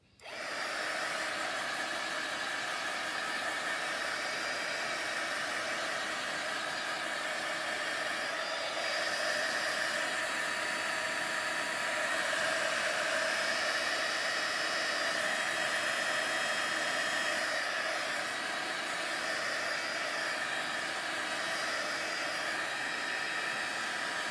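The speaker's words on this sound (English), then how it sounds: "one more time with the heat gun" A heat gun blows in one steady, loud, breathy whoosh for the whole clip, drying a project in progress with no talk over it.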